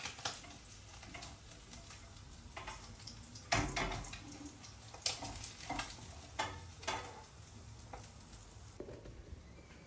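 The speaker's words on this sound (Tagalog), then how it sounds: "Ito na yung last batch ng isda. Last batch na to. Yung piniprito ko." Steady soft sizzling of tamban fish frying in a pan with occasional clinks and stirring scrapes, quiet and close, with a few louder clatters.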